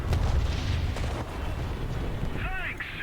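A tank shell fired in War Thunder, a loud low boom rolling into rumble, followed by fainter battlefield noise and a brief whistling tone near the end, with some speech faintly underneath.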